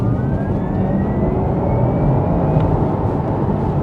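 Porsche Taycan Turbo S electric car accelerating, a steady loud cabin rumble of road and motor noise with a faint rising whine, no voices.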